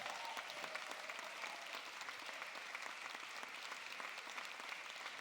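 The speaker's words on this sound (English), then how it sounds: "I'd like us to give a massive cheer and round of applause" A school cabaret audience fills the room with steady applause and cheering, an even, continuous wash of clapping heard from a distance at low volume.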